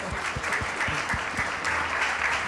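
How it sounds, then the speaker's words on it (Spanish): An audience gives a loud round of applause at a friendly gathering, dense continuous clapping from many hands, steady throughout. "Un fuerte aplauso, por favor."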